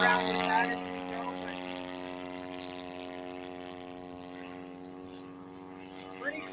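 A large RC Maxford AN-2 Antonov model biplane flies overhead, its petrol engine and propeller giving a steady droning hum that stays fairly loud and even, with a brief change near the end.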